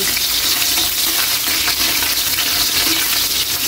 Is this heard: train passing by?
no